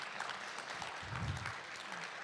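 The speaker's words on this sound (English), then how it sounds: "Big applause to these guys here" An audience claps for guests at a fan convention, a dense steady applause that stays even in level for a couple of seconds with a few louder swells.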